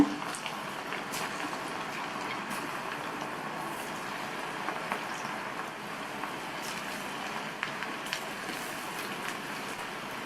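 Battered snack pieces sizzling and crackling steadily in hot oil, a constant bubbling hiss with scattered small pops, moderately quiet and without talk.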